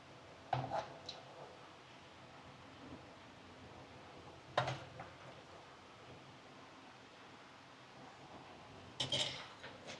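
Dishes clink sharply in three brief, separate moments as fruit salad is served into a bowl, set against a quiet background hiss.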